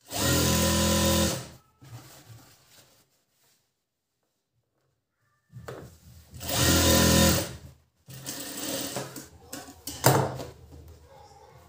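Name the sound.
sewing machine stitching a blouse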